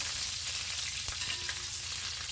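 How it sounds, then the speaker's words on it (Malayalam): Crushed ginger and garlic frying in a pan while being stirred, a dense continuous sizzle up close with a single spoon knock partway through, no speech. "ഇഞ്ചിയും വെളുത്തുള്ളിയും ഇട്ട് കൊടുക്കാം ഇഞ്ചി നന്നായി ചതച്ചെടുക്കണം വെളുത്തുള്ളി അധികം ചതഞ്ഞില്ലെങ്കിലും കുഴപ്പമില്ല ഒന്ന് നന്നായി ഇളക്കി കൊടുക്കാം"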